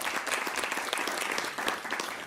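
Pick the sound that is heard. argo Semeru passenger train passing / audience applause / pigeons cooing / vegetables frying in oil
audience applause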